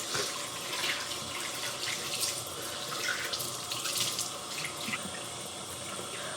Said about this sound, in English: to rinse it, I just use some water